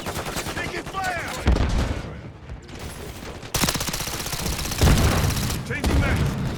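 Bursts of rapid automatic gunfire in Call of Duty Modern Warfare 3, loud and dense, broken by a short lull before the shooting resumes and continues to the end.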